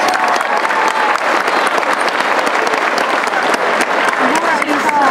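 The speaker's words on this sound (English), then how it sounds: "Once again, let's give her a big round of applause." Enthusiastic audience applause at a middle school graduation ceremony, a dense, continuous round of clapping from a large crowd filling the room, steady and loud throughout.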